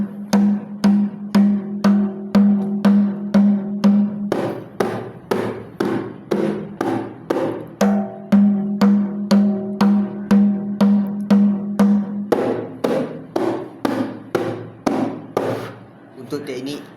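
Kompang hand drum played in the basic beating technique: a steady, loud run of sharp slaps in even rhythm, with a brief break before the pattern repeats, near and clear with no talking.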